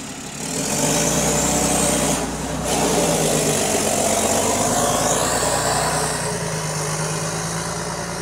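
A GAL E265 bus on route 291, its exhaust burst, holds a loud, close, rough engine drone that swells and settles as it revs.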